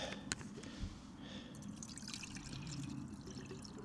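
Water is poured into a small camping pot on a compact ultralight stove, a soft continuous trickle and splash, quiet and close, with no talking.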